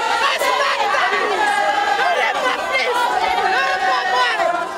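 A dense crowd at Paul Vergès' funeral convoy on Réunion, many voices shouting and calling out together in a loud, continuous close babble with overlapping cries.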